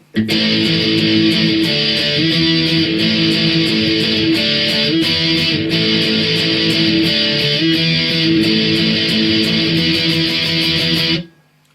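Electric guitar strums steady downstrokes through the chorus of a song, loud and continuous for about eleven seconds before stopping abruptly.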